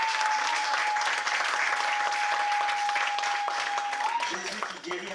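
A church congregation at a family service breaks into loud, sustained applause and cheering, with a steady high tone running beneath and voices rising near the end as the clapping fades.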